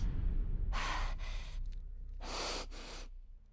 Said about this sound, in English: we were greeted with the same heavy breathing and uncontrollable jerk yet again